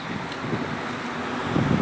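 Steady wind gusts buffet the microphone, a constant low roar with a slightly stronger gust near the end.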